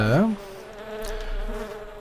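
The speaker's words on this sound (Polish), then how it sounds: "Zobaczcie, to jest mucha." A housefly buzzes in a video game about flying as an insect, the drone continuous and fairly close, sweeping and wavering in pitch as it moves, over a low steady background.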